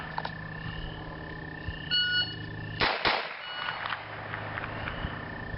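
A pistol fired from the hip on a range gives one loud, close, sharp crack that rings out briefly. It follows a short electronic beep over steady tonal background sound, with no voices.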